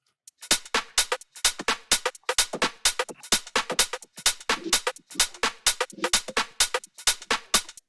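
A deep tech house drum loop built in Ableton, with punchy kicks, a snare roll, glitchy looped hits, and congas and bongos, plays in a tight, steady repeating groove, loud and dry with no voices.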